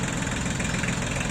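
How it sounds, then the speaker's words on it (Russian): A Japanese Iseki TL2300 three-cylinder mini tractor runs nearby at a steady idle, a continuous chugging engine drone with an even knocking rhythm and no voices. "представляет японский мини-трактор Исеки"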